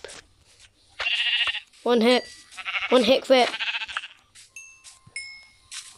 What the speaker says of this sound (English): Ooh, sheep.